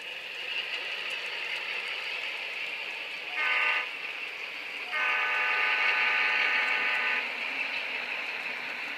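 An HO scale model train rolls along a layout with a steady rumble, sounding two horn blasts, a short one and then a longer one, no voices.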